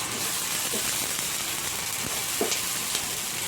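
Onions sizzling in a pan over a medium gas flame, a continuous bright frying hiss with a few soft stirring clicks and scrapes.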